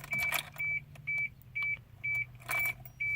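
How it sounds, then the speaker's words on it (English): Ignition key turned in a first-generation Isuzu Trooper, followed by a regular series of about seven short electronic beeps at a steady pace, with faint key jangling near the start. "now we're gonna turn the ignition"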